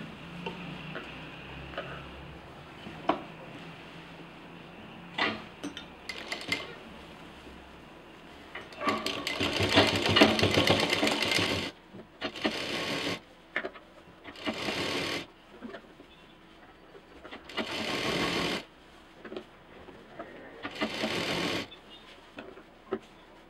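A sewing machine stitches quilted fabric pieces and a frill together for a handmade holder, running in short and longer bursts of rapid mechanical ticking separated by quiet pauses.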